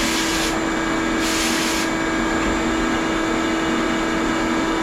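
A media blaster shoots coarse 80 to 90 grit aluminum oxide abrasive, producing a loud, continuous broadband roar with a steady tonal hum, close and unbroken for the whole stretch with no talk.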